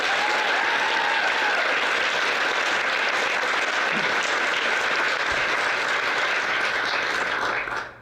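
Sustained crowd applause for the actors and writers of a live sketch comedy show, loud and dense throughout before cutting off at the end.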